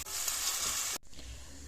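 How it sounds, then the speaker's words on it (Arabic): Onion frying in a mix of oil and butter makes a soft, steady sizzle that cuts off abruptly partway through, leaving quieter low room noise. "حطوا بصل يتقلى"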